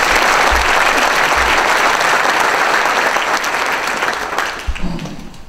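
A conference audience at a county government address breaks into loud, dense applause that carries on steadily and starts to thin toward the end.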